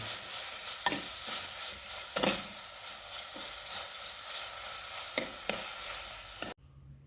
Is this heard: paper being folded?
no